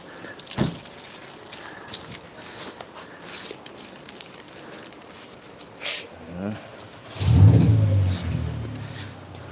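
Car engine with a deep roar outdoors during a winter hand car wash, a low rumble that swells loud and close near the end after quieter scattered noises.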